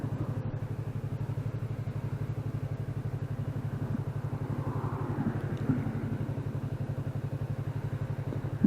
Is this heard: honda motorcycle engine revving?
yes